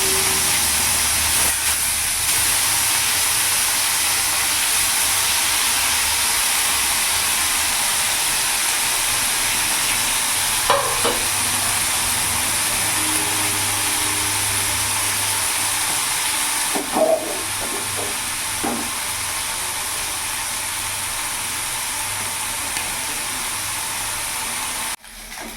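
Small chuno fish sizzle in hot oil in a wok, a steady loud hiss with occasional sharper crackles and pops throughout, no talking.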